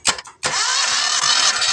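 A car engine cranked straight from the battery through a jumper wire on its starter solenoid during a compression test, with two brief bursts followed by a loud, steady whirring crank running to the end.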